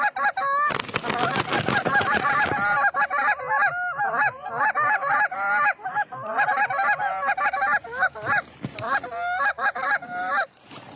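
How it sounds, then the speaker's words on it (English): Geese honking in the open during a goose hunt: a dense, loud chorus of overlapping calls that carries on almost without a break, with a few louder bursts near the start. "So like little goose over there."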